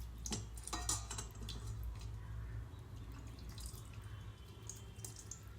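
Plain water trickles and drips over small Radha Krishna idols during a home bathing ritual, a quiet, close splashing with scattered drips over a low steady hum, with no speech.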